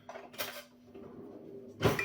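Labz Nutrition powder being mixed into 150 ml of water in a container, giving a few soft clinks and knocks spread across the moment, with a louder clattering burst at the end.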